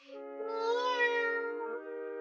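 A tiny kitten gives one drawn-out, wavering meow, close and clear with no other sounds.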